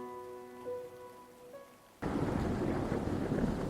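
A thunderstorm with pouring rain bursts in suddenly after soft music tones, becoming a loud, dense, steady roar of heavy rainfall that continues to the end.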